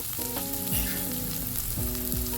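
Fenugreek leaves added to a frying pan with ginger give a steady, close sizzle, overlaid by sustained tonal notes and a few soft thumps.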